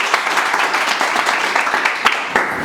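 An audience at a farewell and certificate function for a mobile chip-level repair training batch bursts into applause; dense, energetic clapping with distinct sharp claps standing out, loud and close, no talking over it.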